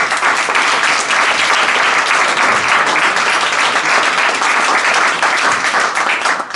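Dense, loud applause from a conference-debate audience fills the whole stretch without a break, steady from start to finish with no voices above it.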